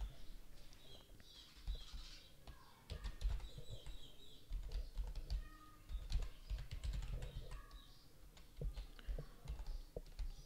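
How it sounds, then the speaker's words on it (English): Typing on a computer keyboard while building a Kivy Python GUI app, with steady clusters of key clicks and light taps running throughout at close range, alone without talk. "I will type my name, maybe typing"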